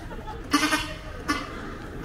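A man at a religious gathering imitates a goat's bleat with his voice, two short nasal calls about a second apart, heard close and fairly loud against a quiet background.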